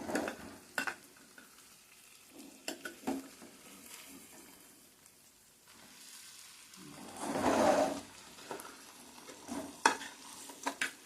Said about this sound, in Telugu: ఇలా ఈ టైప్లోకి మనం ముక్కని ఫ్రై రావనివ్వాలన్నమాట.